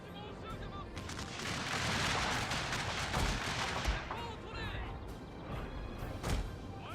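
Artillery fire in a Civil War battle video game set at the Battle of Franklin, 1864: dense, continuous booming and crackling gunfire with sharp louder blasts near the end, a voice talking over it.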